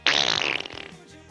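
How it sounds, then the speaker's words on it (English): A generic fart sound effect, one loud, close, buzzy blast lasting about a second that tapers off at the end. "generic fart sound. That one's good."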